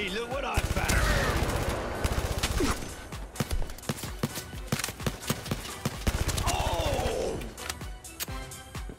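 Gunfire in the video game Blood and Truth: rapid bursts of shots and sharp single cracks mixed with game effects, loud and close, with a voice heard briefly in places.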